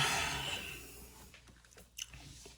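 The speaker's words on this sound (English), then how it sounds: "I'm chewing gum, sorry." Gum being chewed close to the mic, with soft wet smacks and clicks that start dense and loud, then thin out into scattered quieter chews and one sharper smack near the end.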